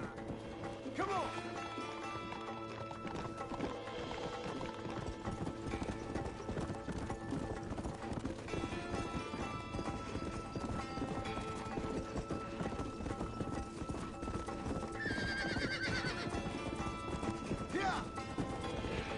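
Horses gallop with rapid, continuous clip-clop hoofbeats in the video game Red Dead Redemption, with a neigh partway through, under a dense mix of game sound and voices talking.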